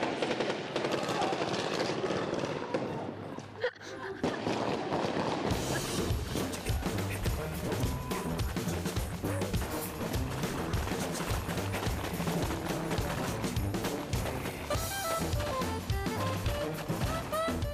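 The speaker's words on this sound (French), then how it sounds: "Ici on tire à blanc dans le village pour vraiment se mettre dans le film, s'entraîner." Blank rounds fired during military training in a mock village at the Royal Military Academy crack out in rapid, repeated bursts over a constant background rumble, with faint voices at times.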